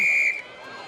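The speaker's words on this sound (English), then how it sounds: "and a whistle." Referee's whistle at a rugby union match, one sharp loud shrill blast lasting about a third of a second that cuts off abruptly, followed by a faint stadium crowd murmur.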